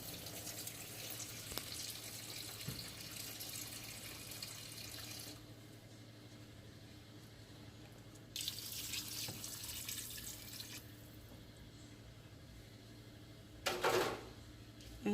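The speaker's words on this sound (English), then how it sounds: "I'm going to add some water. Some more water so I could just start pressuring it." Tap water runs into a pressure cooker for Jamaican stew peas, a steady faint stream with short pauses and a brief louder splash near the end.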